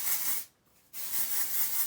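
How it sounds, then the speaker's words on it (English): Waterless dry shampoo sprayed into hair in two bursts of steady aerosol hiss separated by a short pause, close and fairly quiet. "I just shake this up and spray a ton of this product"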